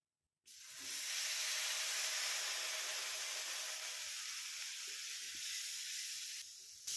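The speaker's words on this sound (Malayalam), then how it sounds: "ഇതിലേക്ക് വിനാഗിരി ഒഴിക്കാം" Sudden sharp hiss as half a glass of vinegar hits a hot pan with chili powder, settling into a steady, loud sizzle with a brief dip near the end.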